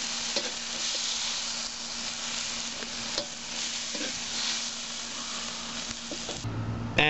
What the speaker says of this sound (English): Gonna stir fry those around until they caramelize nice and yummy